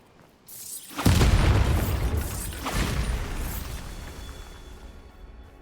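A Bombarda blasting spell in Hogwarts Legacy erupts into a loud, close explosion after a short quiet lead-in, followed by a second crackling burst and a long rumbling, debris-filled decay.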